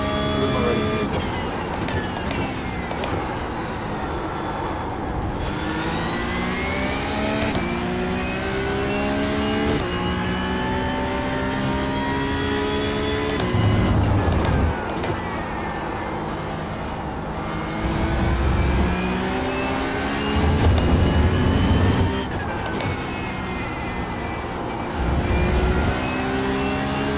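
Race cars in a video game race, engines accelerating through repeated rising gear-shift sweeps, loud and continuous, with occasional low thumps and quick shifts between gears.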